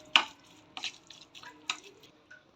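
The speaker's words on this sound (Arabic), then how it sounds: "هنقلب كده الخليط كله مع بعضه اللي احنا حطيناه" A spoon stirs a fish marinade of vinegar and oil in a bowl, giving a few soft scraping clinks and wet swishes, close by and spaced apart.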